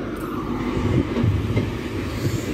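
A CrossCountry high speed train, an HST to Plymouth, rumbles into a station with a steady, loud, low engine drone and faint rail clatter throughout.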